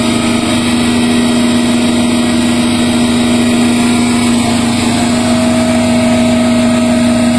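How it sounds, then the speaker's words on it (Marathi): A DC shunt motor running clockwise gives a loud, steady electrical hum and whine with a constant tone and no break throughout. "अशा पद्धतीने आपण मोटार चालू केली आणि मोटार आता क्लॉकवाईज दिशेने फिरायला लागलेली आहे."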